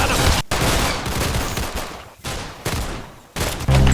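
A floating gun auto-firing in the Roblox game Strong Man Simulator, rapid loud bursts of gunfire in several separate volleys with brief gaps between them.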